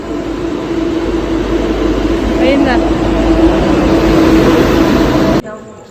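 Loud, steady rumble of a moving train with rail noise, continuing without a break before cutting off near the end.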